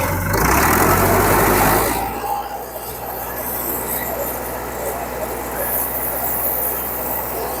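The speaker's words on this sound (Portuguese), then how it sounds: "Trator 1900 RPM, que é a marcha que ele usa no trabalho." A tractor engine held at 1900 RPM while running a livestock sprayer drones close by, loud and broadband at first, then settling into a steadier, quieter hum with spray hiss.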